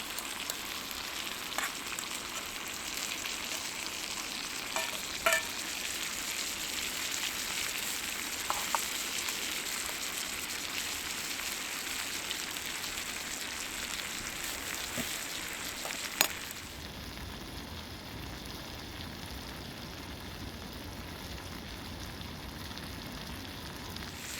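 Steak and potatoes sizzle steadily in a restored hunter's fry pan over a gas flame outdoors in the snow, a dense continuous frying hiss with a few faint clicks of stirring and a quieter, duller stretch toward the end.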